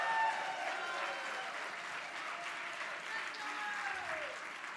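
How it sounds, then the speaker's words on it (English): An audience at a women's hall of fame luncheon at a national convention applauds steadily, a dense wash of clapping hands from a crowded room lasting several seconds, moderately distant. "let's give them an applause, people from Texas"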